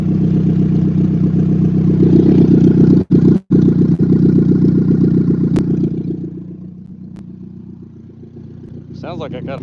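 A car engine idles loud and close with an uneven, stumbling beat from a misfire, a couple of sharp dropouts midway, then settles lower before a voice speaks briefly at the end.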